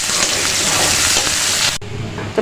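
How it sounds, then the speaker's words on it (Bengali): Sliced onions fry in hot oil left from frying hilsa fish for a hilsa dopiaza, making a loud, dense crackling sizzle that drops sharply to a quieter bubbling hiss partway through. "আমি এখন পেঁয়াজগুলোকে ভেজে নিচ্ছি"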